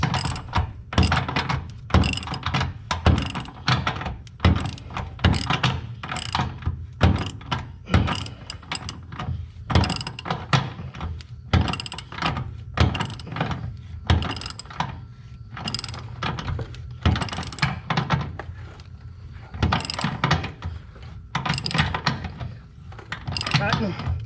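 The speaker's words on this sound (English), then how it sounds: "using a box end wrench is much better" A box end wrench ratchets in a steady run of close, sharp metallic clicks as bolts on a boat trailer's front bunk are tightened, the rhythmic clatter continuing without pause for about twenty-four seconds.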